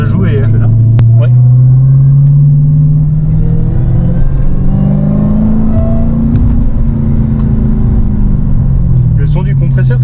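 An 810-horsepower supercharged car engine revs loudly from inside the cabin, its pitch climbing and falling with a whining supercharger tone over a deep rumble, and voices speak briefly.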